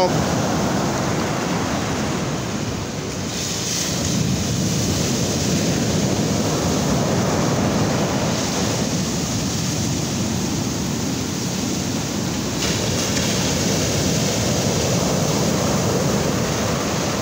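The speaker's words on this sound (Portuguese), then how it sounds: "Hoje a onda tá um pouco forte." Ocean surf at the Orla de Itaparica shore in Vila Velha, with fairly strong waves breaking, heard as continuous loud wash and roar with gentle swells in intensity and some wind.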